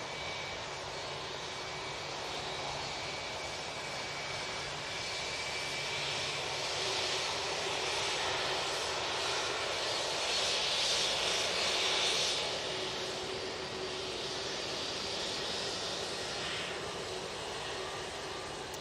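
Airbus A320-200 airliner at Manchester Airport, a sustained jet engine whine and rumble that swells slightly mid-way then settles, moderately distant, alone without voices.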